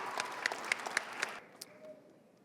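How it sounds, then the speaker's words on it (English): Scattered clapping comes from the audience at a spring graduation ceremony, a few distinct hand claps that quickly thin out into quiet room sound. "we want to give them the full weight of our applause and appreciation"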